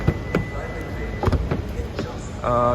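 A 2022 Hyundai i30 N facelift's door shuts and opens several times, giving a few short, close thuds and clicks spread across the clip, with someone talking briefly at the end.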